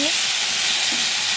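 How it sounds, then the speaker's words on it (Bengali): Water spinach that was steamed first, now dropped into hot oil with chopped garlic and chili, giving a loud, steady frying hiss that runs unbroken throughout with no talking. "কলমি শাকটা একটু ভাপিয়ে নিয়েছি, এবার তেলে ছেড়ে দিলাম।"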